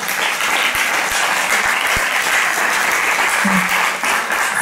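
Steady audience applause fills a conference talk on burn-out, a dense wash of clapping with a few louder individual claps near the front and faint voices underneath.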